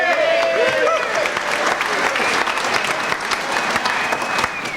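Audience applause fills a 1999 Cornell reunion show by a jazz band, steady dense clapping from a crowd, with a few overlapping voices.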